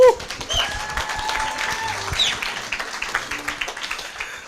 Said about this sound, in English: Ivor and Kobus, give them a round of applause.